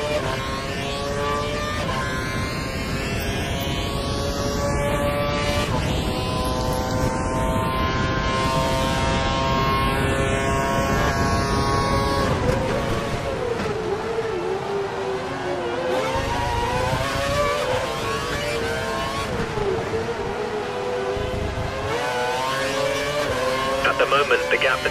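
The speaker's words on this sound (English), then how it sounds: "car behind is running on full revs" A Formula 1 car screams at full revs in the video game F1 2012 during a league race at the Circuit of the Americas: a loud, high engine whine that climbs and shifts through gears, with a voice talking over it.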